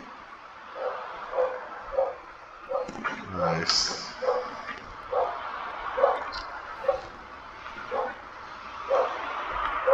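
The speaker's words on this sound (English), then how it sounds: "And my dog's barking." A dog barks repeatedly in short, evenly spaced yips and woofs, moderately close, while a person talks briefly over it.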